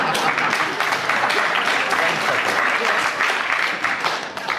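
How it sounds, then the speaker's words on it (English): A 1968 radio panel show studio audience breaks into loud, dense applause, a sustained wash of clapping that holds steady before easing off slightly at the very end. "I think from the applause that the audience agrees with you"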